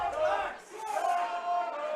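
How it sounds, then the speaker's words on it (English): Crowd at a Connacht versus Sale Sharks pre-season rugby friendly, a sustained distant roar and cheer swelling twice over two seconds. "it's getting the crowd moving a bit there"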